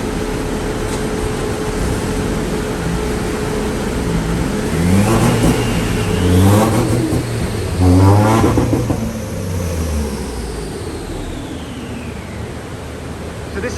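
A mapped Honda Civic FN2 Type R with an Ecutek exhaust revs on a rolling road. The engine climbs sharply through two loud rev sweeps in the middle, then drops back to a steady hum.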